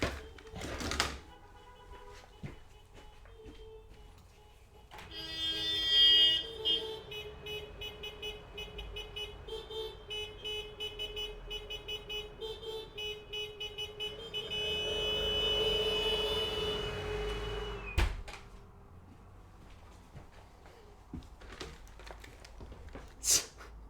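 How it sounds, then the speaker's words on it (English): Delivery drivers on mopeds honk their horns one after another outside on the street, a series of short toots and longer blasts spread over about twenty seconds, heard from indoors at moderate distance. "That was like a little mini rally of Deliveroo drivers on mopeds, just like all met up with each other there and just like honking in sequence."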